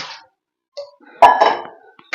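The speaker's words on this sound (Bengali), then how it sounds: "একটি কড়াই বসিয়ে দিলাম তো কড়াইতে কিছুটা পরিমাণ আমি জল দিয়ে দিচ্ছি" A metal wok clanks down with a sharp ringing clatter among a few lighter clinks, nearby in a quiet room.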